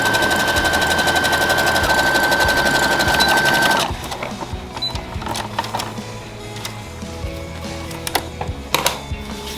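A sewing machine stitches an elastic hem on pro wrestling kick pads, running in a loud, fast, continuous chatter for about four seconds, then a quieter stretch of handling with scattered small clicks and taps.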